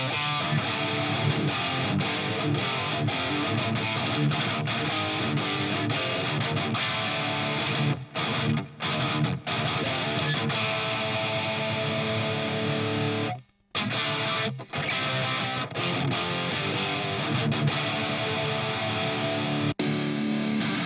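Heavily distorted electric guitar plays chords and riffs through a crunchy Friedman BE amp model, loud and continuous with a couple of brief pauses.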